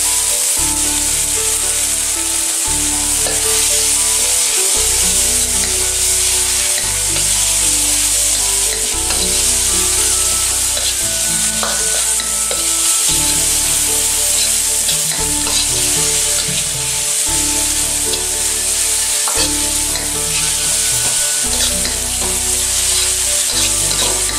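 Onion and mushrooms fry hard for stir-fried soy noodles, a loud, dense, unbroken sizzle with the faint scrape of stirring running through it for the whole stretch.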